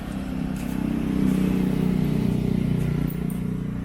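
A motorcycle engine hums steadily during a ride. The note swells a little, then settles, and stays close and continuous.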